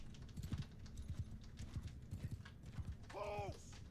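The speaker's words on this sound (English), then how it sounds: "Horse." Horses gallop in the Mount & Blade Bannerlord video game as cavalry rides around houses, a rhythmic run of hoof clip-clops ending in a clear neigh near the end, under faint background sounds.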